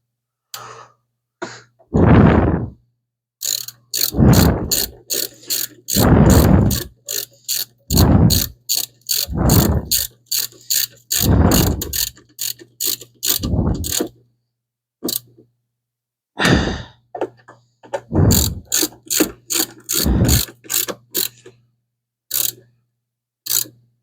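Ratchet and socket tightening bolts on a 1975 Plymouth Duster heater box, with bursts of rapid clicking strokes repeating in short runs, close and loud, separated by pauses.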